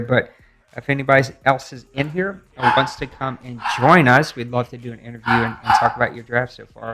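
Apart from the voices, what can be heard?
dog barking in the background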